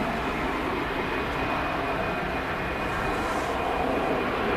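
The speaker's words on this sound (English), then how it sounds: "one of the aircraft are starting its takeoff roll right now" At Manchester Airport, an easyJet aircraft starting its takeoff roll on the runway gives a steady, broad engine roar that builds slightly and persists without pause, with no voices over it.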